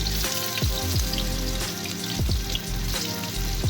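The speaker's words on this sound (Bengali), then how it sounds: "এখন আমি পেঁয়াজ কুচি দিয়ে দিচ্ছি" Chopped onion sizzles loudly in hot oil with caramelised sugar in a pan, a dense, continuous frying crackle under steady tonal background sound.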